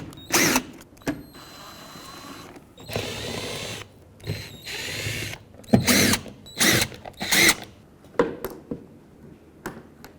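A power driver backs T25 Torx screws out of the cowl panel on a 2001-07 Toyota Sequoia, in a series of short, loud whirring bursts with clicks and pauses between them, close up and with no talking.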